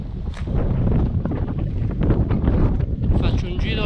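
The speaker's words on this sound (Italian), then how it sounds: "Che vento!" Gusty wind buffets the microphone in a steady roar on a rocky mountainside at 1700 m, with a voice speaking Italian over it throughout.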